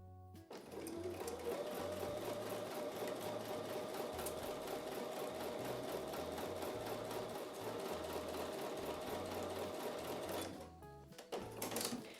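A sewing machine stitches a quarter-inch seam through quilting fabric, running in a steady, loud, continuous whir with a rapid needle rhythm for about ten seconds before stopping, then starting again in short bursts.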